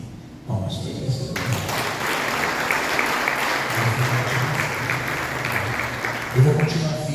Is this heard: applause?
yes